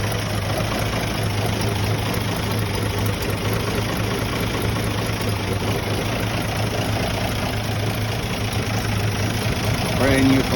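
A 1974 Toyota FJ40 engine idles steadily after a cold start, a continuous low, even rumble heard close up, with a faint voice briefly near the end.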